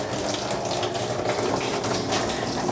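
Water from a rain collection system pours steadily through a pipe, a continuous close, loud rushing splash with no talk.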